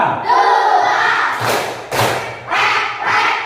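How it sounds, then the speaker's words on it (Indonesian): Young pupils in an elementary classroom chant in unison during a clapping routine, with a couple of crisp group claps striking midway between stretches of loud, close chanting. "Tepuk dua."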